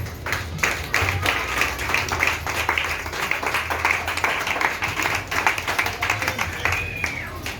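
A church congregation clapping in acclamation during worship, with dense, steady applause running throughout and voices mixed in underneath.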